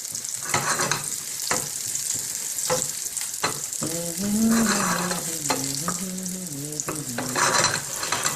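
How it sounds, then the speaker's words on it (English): Whole spices fry in a hot pan for a lamb curry, a constant loud sizzle broken by scraping stirs, with occasional clattering of utensil against the pan. "So fry this until they're, you know, not medium brown, actually proper burnt brown."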